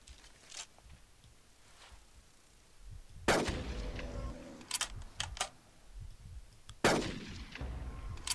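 Gunfire in the hunting video game Carnivores: Dinosaur Hunter Reborn: two sharp, loud shots a few seconds apart, each trailing off into a brief echo over quiet outdoor ambience.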